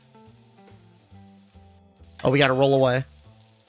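Hot dogs sizzle on a grill in a post-apocalyptic diner video game, a loud frying hiss that bursts in for under a second amid background game music, with a brief spoken line just before it.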